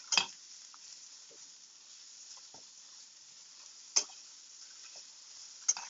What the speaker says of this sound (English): I hope you can hear the sizzle because it sounds really good while it's sizzling